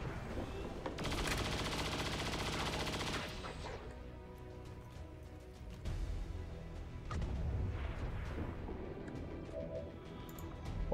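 Gunfire from the XCOM 2 strategy game erupts in loud rapid bursts, a sustained volley for a couple of seconds followed by further shots and explosive impacts, alone without talk.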